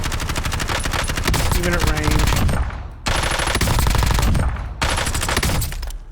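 Rapid, loud bursts of automatic fire from the Kilo rifle in the game Warzone, three long sustained strings close up, with a brief spoken voice over the shooting.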